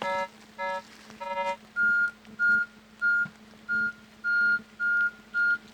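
A metal detector sweeping a field over a buried target, giving a few quick warbling tones and then a steady string of evenly spaced loud beeps, close and clear against a low background drone.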